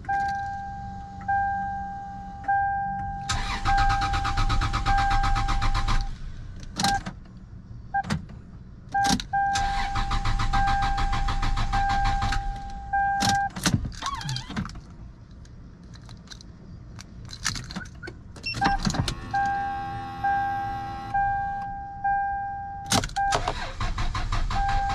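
A Lexus GS300's starter cranks repeatedly in several long bursts with short pauses between them, a whirring, strained churn close by as the engine tries but struggles to catch.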